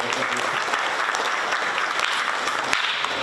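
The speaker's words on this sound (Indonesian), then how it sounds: "Tepuk tangan." Audience applause at a university event, a steady dense wash of many hands clapping close by, sustained without a break from start to finish.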